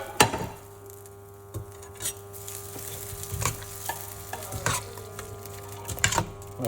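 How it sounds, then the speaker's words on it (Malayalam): Spoon stirring a fried tempering into yam erissery, a Kerala yam and coconut curry, in a pot. Scraping strokes come at irregular intervals over a faint steady sizzle, close and moderately quiet, with no talking. "നമുക്ക് താളിച്ച് വെച്ചത് നമ്മുടെ ഇറശ്ശേരിയിലേക്ക് ഇട്ട് നന്നായിട്ട് മിക്സ് ചെയ്ത്"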